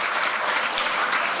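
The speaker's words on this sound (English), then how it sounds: "Let's give them a beautiful, lusty round of applause again." Dense, steady applause from an audience after a performance by the SWAHA Hindu College group at a Hindu cultural competition, sustained evenly throughout.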